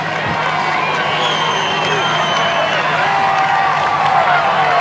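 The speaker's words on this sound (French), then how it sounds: "Oh la foule qu'il y a ici." A dense roadside crowd roars and cheers along the Tourmalet climb at the Tour de France, a loud, constant wash of voices with a commentator talking over it.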